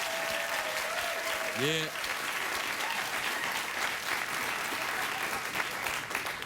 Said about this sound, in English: they give themselves a round of applause